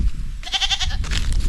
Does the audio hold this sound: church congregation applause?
no